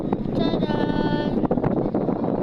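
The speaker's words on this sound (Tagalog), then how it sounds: "Sobrang lakas ng hangin guys." Strong wind at the Chocolate Hills roars and buffets the microphone continuously, a loud rushing rumble with gusty fluctuations and faint background sounds.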